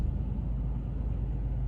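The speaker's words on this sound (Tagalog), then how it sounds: "May paparating na sasakyan." Car approaching along a road, a low steady rumble of engine and tires heard from inside a moving vehicle, brief and continuous without talk.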